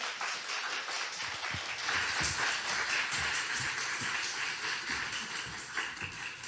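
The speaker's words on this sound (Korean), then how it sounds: "우리 목사님 나오실 때 우리 박수로 환영하겠습니다" A church seminar audience claps to welcome the pastor, a steady, dense patter of hands rising and holding at moderate level for several seconds across the hall.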